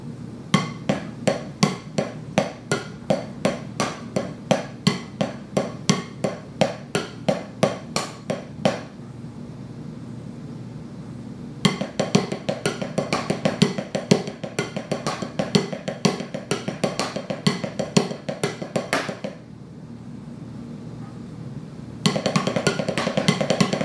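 Sticks play a multi-drum triplet drill on a practice pad, a close, steady run of sharp, even strokes in long phrases broken by brief pauses.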